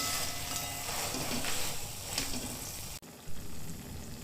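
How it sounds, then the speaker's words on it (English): Fries stirred and tossed in a hot pan with honey chilli sauce, a close steady sizzle with soft scraping stir sounds and a brief knock near the end. "Give this a nice mix. Coat all the fries with these sauces."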